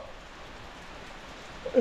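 Rain falls on a house roof, a soft even hiss that holds steady at low level for under two seconds with no wind, ending with a brief louder tap.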